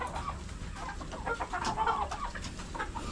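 Chickens clucking in a farmyard, a steady overlapping chorus of hens and birds with short bursts rising and falling, moderately close and with no talk.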